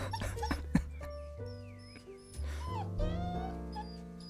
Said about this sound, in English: I know. It's hard work being a puppy. He's teething. I think that's why he's crying.